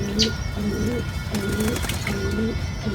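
Pigeons coo nearby in soft, repeated throaty phrases roughly every second, with a faint chirp now and then over a steady background hum.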